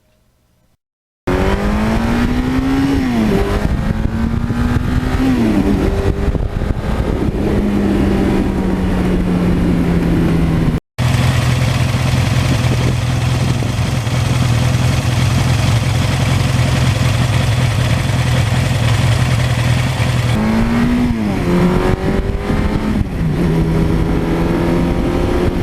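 A 1982 Suzuki GS1100E motorcycle engine idles steadily, then revs up and down a few times, loud and close, with a brief cut in the middle.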